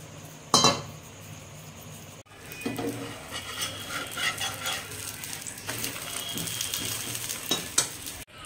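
Flour-and-water battered pieces frying one at a time in a home kitchen pan, a steady broadband sizzle with occasional clinks of utensils against the pan throughout.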